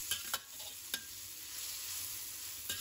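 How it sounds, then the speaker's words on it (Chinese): Sweet potato leaves stir-fried in a pan, a steady sizzle broken by several sharp scraping stirs of the spatula, close and moderately loud with no talk. "继续翻炒。"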